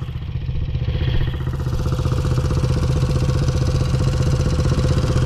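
A 1958 BSA A10 650 motorcycle engine runs up close at a steady, loud, lumpy idle, its even pulsing beat continuing with no speech.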